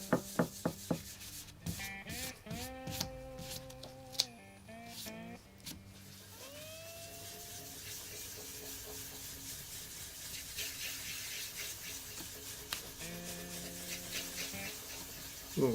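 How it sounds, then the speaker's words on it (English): GluBoost finish is being rubbed by hand into a guitar body, giving soft scuffing and rubbing strokes with a few sharp clicks and taps early on, fairly quiet, with occasional background noises. "Rub this in."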